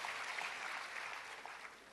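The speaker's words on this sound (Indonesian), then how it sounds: "Kita tepuk tangan meriah bagi Kristus Yesus Tuhan." Congregation clapping together during a church worship service: a dense, steady wash of applause from many hands that holds evenly for about two seconds, with no voices standing out.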